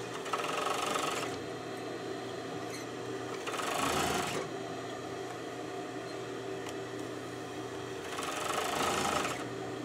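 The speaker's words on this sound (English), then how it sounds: "this makes so much more sense sewing with the overlock than a straight stitch because it's cleaning up all the edges" An overlock sewing machine hums steadily while stitching seams on a stuffed animal, rising into three louder, faster bursts of stitching, with no voices.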